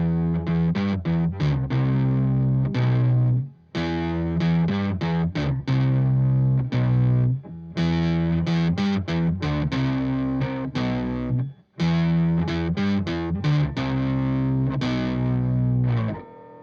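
Electric guitar runs through a BOSS XS-1 pitch shifter with the blend at 75%, mixing shifted and dry notes in choppy, distorted strummed phrases separated by short pauses.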